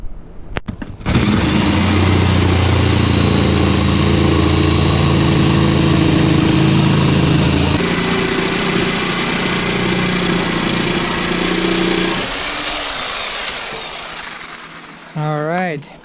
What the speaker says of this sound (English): I'm gonna try a jigsaw.